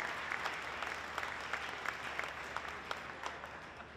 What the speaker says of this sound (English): let's give them another big round of applause tonight